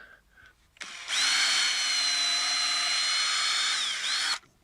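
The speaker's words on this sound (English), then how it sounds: "So I'm just going to take my drill" A power drill bores a pilot hole into timber, spinning up after a brief click and whining steadily for about three seconds before stopping abruptly, close and clear.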